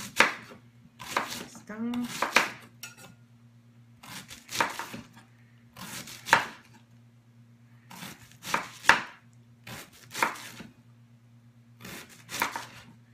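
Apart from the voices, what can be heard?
chopping cabbage for sauerkraut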